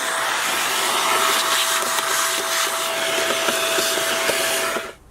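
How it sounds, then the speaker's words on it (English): A household vacuum cleaner runs steadily up close, sucking dust out of a Mini Cooper's engine air filter housing, with a loud continuous whine and faint rattles of debris, then switches off and spins down at the end. "so I will bring my vacuum and get rid of it"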